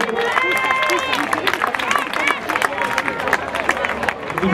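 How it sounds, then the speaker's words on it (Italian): Crowd applause at the finish of a running race, dense steady clapping mixed with cheering and a busy hubbub of voices, loud and close throughout. "Un applauso per lei"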